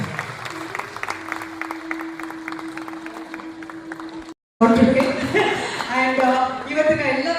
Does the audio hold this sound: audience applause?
yes